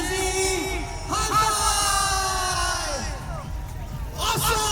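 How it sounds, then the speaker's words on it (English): A crowd at a freestyle motocross show in Kochi yells and whoops in sustained, loud waves, with an announcer's voice talking over the noise. "The crowd is going crazy out here."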